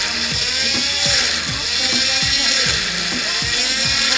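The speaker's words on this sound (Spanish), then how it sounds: "Por acá vamos a licuar el verde." A kitchen blender whirs steadily as it purées green plantain for an Ecuadorian bean, corn and peanut soup, the motor loud and close with a rhythmic chopping pulse repeating throughout.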